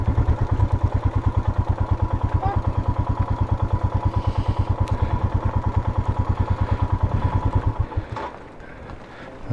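A Royal Enfield Himalayan single-cylinder motorcycle idles on a bridge with a steady, fast thumping beat, close and loud, until the engine is switched off near the end and a faint rattle is left.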